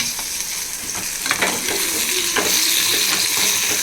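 Eggplant and potato fry in a pan of oil for a dried fish curry, giving a steady close sizzle throughout with a few sharper scraping stirs of a utensil against the pan, and no voices.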